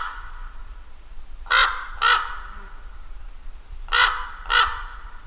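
A raven gives hoarse, throaty croaks in two pairs with a pause between, fairly close against a quiet outdoor background.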